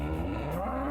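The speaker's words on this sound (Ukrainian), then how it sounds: "Корова!" A low, drawn-out cow moo in the game Serious Sam: The First Encounter, with a synthetic, game-like tone, steady and fairly loud for under a second, no talking.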